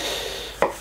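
MILITIS Kizlyar Supreme knife making a single sharp chop against a kitchen cutting board, heard close at the end of a short stretch of quiet room tone.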